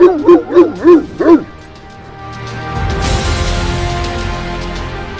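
A Spanish mastiff barks four times in a quick deep series, loud and close, followed by a low rumbling background noise.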